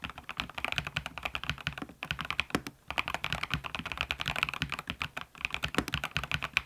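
Fast typing on a mechanical keyboard fitted with 45 g pebble-style Shooting Star switches gives a dense, even patter of light clacks with brief pauses, close and alone.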